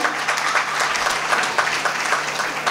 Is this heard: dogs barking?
no